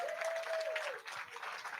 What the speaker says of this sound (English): Can we give applause to them?